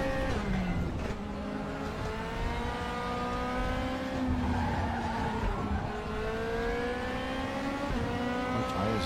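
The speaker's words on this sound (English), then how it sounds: "The DRS sound is great, though." A race car in a racing video game opens its DRS on a downhill stretch, its engine whining high and steady. Rising and falling harmonic tones and faint tyre noise continue throughout, with no voices.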